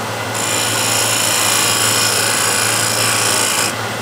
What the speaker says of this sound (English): you can use shear scraper, tilt it up on its side, and again, you'll see where the dust is coming from the lower edge.